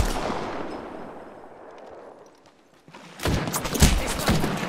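Rapid bursts of gunfire in the Apex Legends battle royale game, starting muffled and sparse, then erupting loud and dense in sustained automatic volleys near the end.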